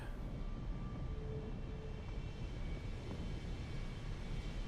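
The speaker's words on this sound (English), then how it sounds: "going in this helicopter forwards the story" A helicopter in the video game Deus Ex: Human Revolution gives a continuous, steady mechanical engine drone with a dense rumbling wash, moderately quiet and unchanging throughout, with no voices over it.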